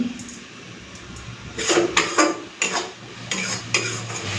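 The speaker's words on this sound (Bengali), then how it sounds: "চলুন এরপরে এইভাবে নাড়াচাড়া করে করে পুরো জলটাকে শুকিয়ে নেব।" Ivy gourd paste stirred in a pan to cook off its water, soft sizzling beneath intermittent scraping and clinking of a spoon against the metal pan, close and fairly quiet.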